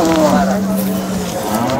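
A cow moos in one long, loud, nearby call at a busy cattle market in Sangola, Maharashtra, with crowd murmur underneath.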